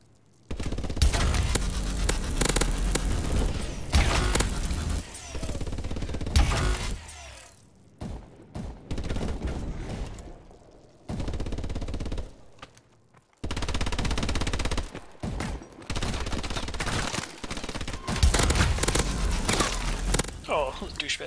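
Clipped two-round burst gunfire in Call of Duty: Advanced Warfare co-op, loud repeated short volleys with mechanical clatter and footsteps, broken by brief quiet gaps, with voices in the background.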